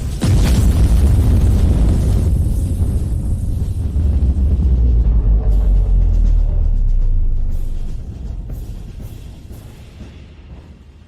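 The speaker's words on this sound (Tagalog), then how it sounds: "Sumabog." A large explosion in a fantasy battle between an empress and an imperial kingdom's forces: a loud, sustained boom with a heavy low rumble that holds for about seven seconds before slowly fading, with debris crackle toward the end.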